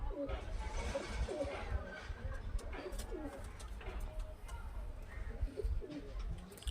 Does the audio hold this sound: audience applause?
no